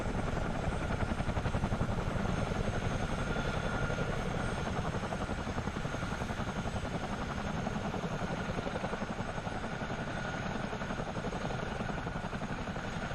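A CH-47D Chinook tandem-rotor helicopter in a flight simulator game produces a loud, steady rotor and turbine drone with continuous rhythmic blade chop throughout, without talk.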